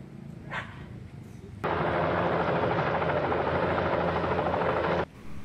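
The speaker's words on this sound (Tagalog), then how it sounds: "At ang pag-alis ng helicopter na sinakyan nila." A helicopter taking off: its rotor roar starts abruptly and holds loud and steady for several seconds, then cuts off; faint background noise before it begins.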